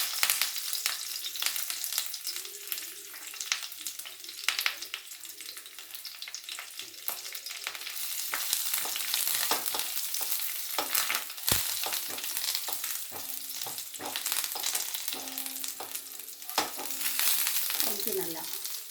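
Ginger and curry leaves sizzling in hot ghee while being stirred, a steady close crackle with occasional scraping of the spoon against the pan, tempering for South Indian ven pongal.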